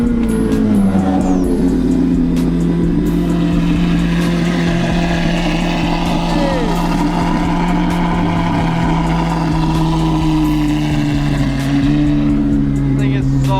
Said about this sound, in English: it's time for a cold startup after the full exhaust is installed